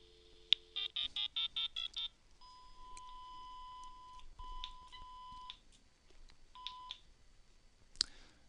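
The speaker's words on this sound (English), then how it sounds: "And you should hear this thing draw dial tone." An HST 3000 test set on a telephone line draws a brief dial tone, then rapidly dials a string of touch-tone digits, followed by a series of steady beeps and tones of varying length.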